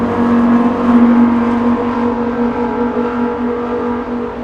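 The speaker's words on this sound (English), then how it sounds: "That was a Lamborghini Huracan. Naturally aspirated V10 engine on that one." Lamborghini Huracan with a naturally aspirated V10 revving near Los Angeles International Airport, a loud sustained engine drone peaking early then easing off, with no talk.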